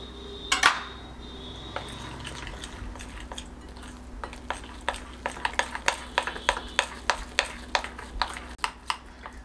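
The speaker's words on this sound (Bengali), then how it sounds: "আমি ডালটা সুন্দর করে ফেটে নিয়েছি।" A spoon beats lentil paste mixed with rice flour in a bowl, giving a steady run of sharp clinks and taps against the bowl that quicken toward the end after one louder knock at the start.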